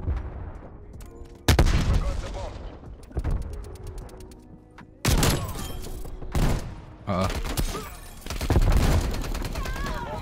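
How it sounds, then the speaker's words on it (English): Hand cannon gunfire in Call of Duty Black Ops Cold War, a heavy weapon like the Annihilator: loud sharp shots in several bursts with rapid fire between them, mixed with other gunfire and game noise. "We have the hand cannon."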